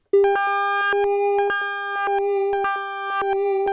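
A bright synth tone on a SONICWARE Liven XFM plays a repeating sequence of short notes, its pitch wobbling slowly and gently from slow pitch modulation; steady, clean and fairly loud.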